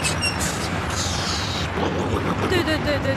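Firecrackers go off in a rapid, irregular string of loud pops at a village in China, with a crowd's voices talking over the bangs throughout.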